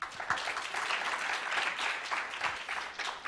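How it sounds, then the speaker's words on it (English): A steady round of audience applause for speaker Anne at a green hydrogen masterclass, a full, continuous wash of clapping hands throughout. "Let's give her another round of applause"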